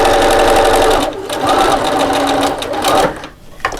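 A sewing machine runs steadily, topstitching along the short-end seam of a fabric purse with a snap fastener, its close, rapid mechanical chatter continuous and briefly easing near the end.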